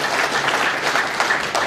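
A church congregation claps steadily in a brisk, dense burst of applause, with high ululation-like tones woven through it and no speech over it.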